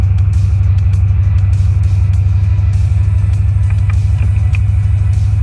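A 1984 Corvette engine runs at a steady, loud, low throbbing idle, close by, with a constant rhythmic rumble and faint clicks over it.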